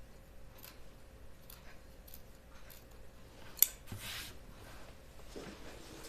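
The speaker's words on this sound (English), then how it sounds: "So I did a pinking edge around all of my, yikes, lining pieces so that they wouldn't get unravelly." Pinking shears snip along the edge of coat facing fabric with faint, quiet, irregular cuts and one sharper click, set against a low room background.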